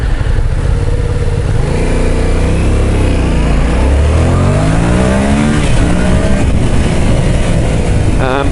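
A 2014 Yamaha MT-07 motorcycle engine roars loudly while being ridden, its pitch climbing and falling through gear changes as the bike accelerates, with heavy wind noise over it.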